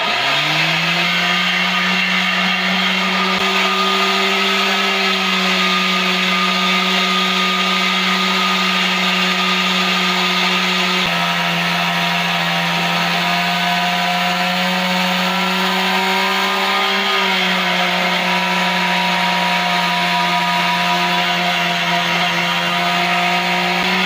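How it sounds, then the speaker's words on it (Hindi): An electric kitchen grinder coarsely grinds homemade samosa and pakora spice mix with garlic, a loud, steady whirring motor drone that runs for the whole stretch, its pitch dipping and shifting slightly a few times. "जो हमने तैयार किया है इसे ग्राइंडर में डाल देते हैं और इसे दरदरा ग्राइंड करेंगे।"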